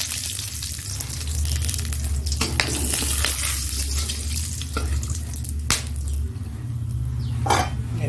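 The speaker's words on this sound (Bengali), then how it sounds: "এখানে হলো তেজপাতা আছে, লঙ্কা আছে, আর হলো একটু দারচিনি আর লবঙ্গ আছে, দিয়ে দিচ্ছি" Bay leaf, chili, cinnamon, cloves and cumin hit hot oil for a mutton curry, a steady close sizzle broken by a few sharp clatters and stirring scrapes.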